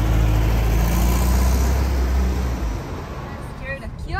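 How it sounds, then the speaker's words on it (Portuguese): A 1986 Volkswagen Beetle (Fusca) engine rumbles loud and low while driving, with voices over it, the drone easing slightly toward the end. "Ó a arrancada do Fusca, hein."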